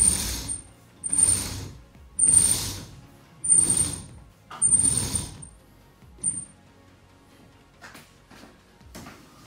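Ceiling pulleys hoisting a kayak in a home garage make five rhythmic mechanical whirring, ratcheting pulls of about a second each, loud and close. A few fainter clicks follow, with no talk.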